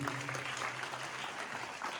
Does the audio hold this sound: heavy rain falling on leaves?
no